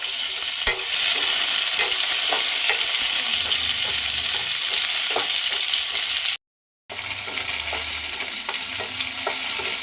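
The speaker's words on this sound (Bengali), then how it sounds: "আমটা এবার নাড়াচাড়া দিয়ে নেবো" Cut raw mango being stirred in a frying pan with dried red chillies, a steady loud sizzle running throughout under intermittent scraping strokes of a spoon, close up, with a brief gap of silence midway.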